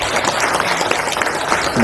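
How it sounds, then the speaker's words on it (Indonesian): Applause from an audience at a political party event, a dense continuous wash of many hands clapping, steady and fairly loud throughout with faint voices mixed in. "Tepuk tangan untuk beliau."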